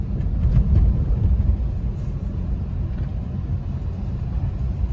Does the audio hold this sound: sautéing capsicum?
no